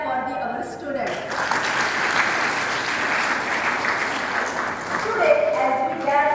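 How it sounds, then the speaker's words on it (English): Audience at a school Independence Day celebration breaks into sustained, dense clapping that holds steady and fairly loud throughout, with a few voices and faint cheers mixed in near the end. "So a big clap for the other students."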